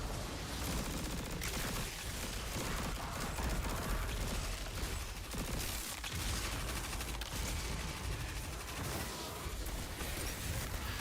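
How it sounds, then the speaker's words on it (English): Gunfire from enemies in the video game Destiny 2, a continuous loud clatter of rapid shots and mechanical rattling that keeps going without a break throughout. "Please stop shooting at me."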